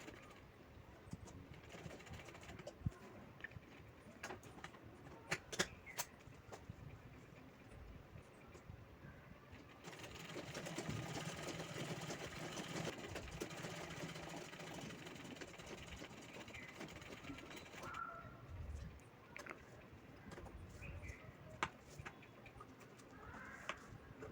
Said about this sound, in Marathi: त्यानंतर साईडला शिलाई करते दोन्ही बाजू आपल्याला शिवून घ्यायच्या आहेत साईडच्या